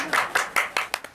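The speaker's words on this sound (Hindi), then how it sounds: "तालियां।" Several sharp, separate handclaps in a quick irregular rhythm, close and fairly loud, with no other sound around them.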